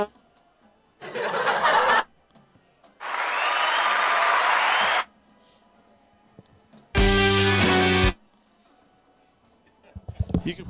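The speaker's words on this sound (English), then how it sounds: "these are the clapping hands and stuff on that" A recorded clapping-hands sound effect plays from a soundboard: a short burst of crowd applause, then a longer steady stretch, clear and fairly loud, followed by a loud musical tone burst and faint room sounds.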